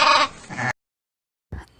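A sheep bleats twice, close and loud, a wavering nasal cry followed by a short pause and a briefer second bleat.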